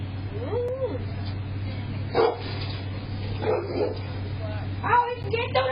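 A dog barks and yips a few times at moderate distance over a steady low hum, with people talking and reacting around it.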